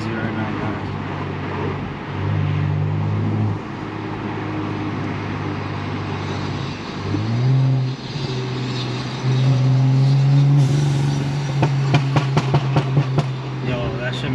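A BMW N55 turbocharged engine with exhaust valve open drones and rises in revs from inside the car, with several surges, a turbo spool and a few crackling pops near the end.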